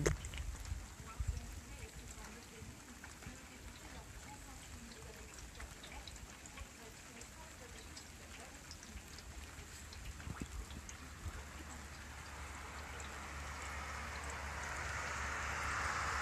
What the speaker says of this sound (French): Petite pluie en tout cas ici, juste histoire d'arroser les jardins.